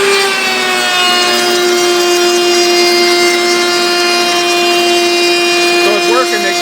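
A router fitted with a 45-degree chamfer bit runs on a stick of hardwood with a power feeder. It makes a loud, steady, high-pitched whine with a strong constant tone. A voice talks briefly over it.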